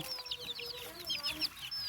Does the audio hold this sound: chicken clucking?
yes